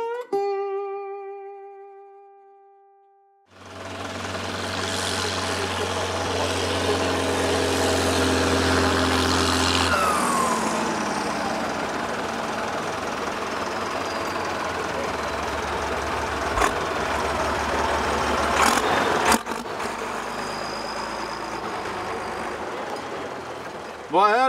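A 1983 BM 2654 tractor engine idles steadily with a deep, even low rumble after a brief tonal sound at the start, running close by with a few clanks near the end.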